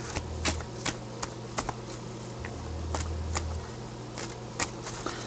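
Quiet, crisp riffling and snapping of playing cards being shuffled, a series of short papery bursts over a low steady hum.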